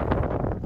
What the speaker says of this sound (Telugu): విండ్ అయితే చాలా ఎక్కువగా ఉంది, చలి విపరీతంగా పెరిగిపోతుంది.